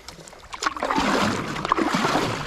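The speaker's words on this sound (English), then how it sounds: "This is a lot of active paddling." Paddle board stroked through river water on the Perdido River, a run of close splashes and watery swishes with no talk over them.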